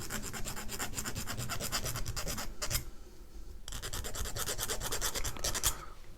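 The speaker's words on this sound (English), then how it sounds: "so I'm just going to use a file" Hand file rasping to round off a part of a 1/250 scale Yamato model battleship, steady rapid back-and-forth strokes close up, with a short pause near the middle before the filing resumes.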